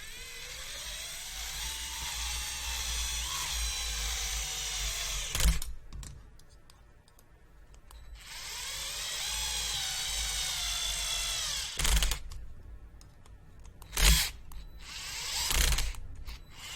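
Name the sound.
electric driver driving screws into RC buggy kit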